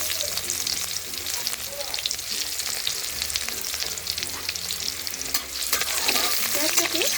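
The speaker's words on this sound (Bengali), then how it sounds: "পেঁয়াজটাকে একটু লালচে করে ভেজে নেব।" Chopped onions fry in a pan over tempering spices for a Bengali ash gourd and prawn dish, sizzling loudly and continuously while a spatula stirs and scrapes through them now and then. No one speaks.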